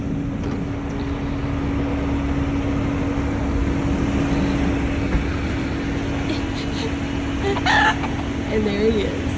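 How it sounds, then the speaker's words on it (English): A rooster in Key West crows from the roof of a parked van in a parking lot, a short bright call near the end rising over steady traffic-like background hum. "rooster just landed on the top of our van as we parked in the parking lot."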